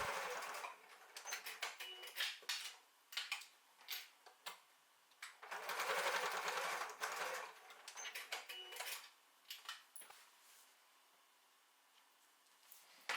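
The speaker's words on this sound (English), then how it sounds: "secure the loops with a line of stitch near the raw edges" A sewing machine runs a line of stitching to secure the loops near the raw edges of a tote bag, with quiet rapid whirring bursts that start and stop repeatedly and a longer steady run in the middle.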